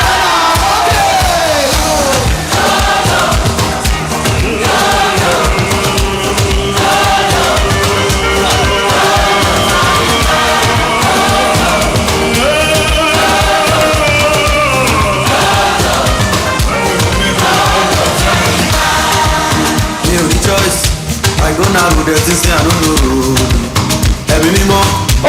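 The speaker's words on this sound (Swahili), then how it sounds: "Ongeza makofi tena kwa ajili ya mabinti zetu wa kesho." A crowd cheers loudly for a performance by young girls, with continuous applause mixed with high ululating cries and whoops that stay loud and close throughout.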